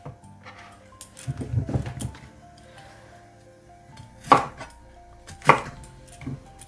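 A knife slices bitter gourd and potatoes lengthwise on a board in a home kitchen, giving soft, irregular cuts and a few sharper knocks at close range, with quiet gaps in between.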